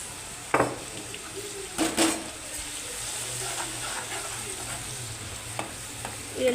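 Raw garlic is stirred into a frying pan while making bitter gourd chutney. A soft, steady sizzle runs under a few distinct spoon scrapes and clinks against the pan.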